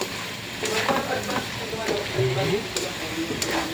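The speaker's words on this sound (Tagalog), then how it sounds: "Lutuin muna natin atong carrots." Carrots cook in a pan, giving a soft, steady sizzle with scraping stirs and occasional clinks of the utensil, close by, while a voice talks over the cooking.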